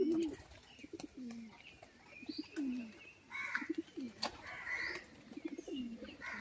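Pigeons coo repeatedly in low, rolling phrases, with faint chirps and light background noise around them.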